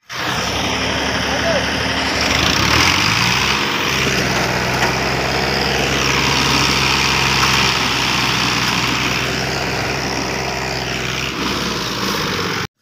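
A tractor engine labours to pull a trolley piled with sugarcane, its loud, rough drone running steadily and without a break, swelling slightly under strain and filling the whole stretch close by.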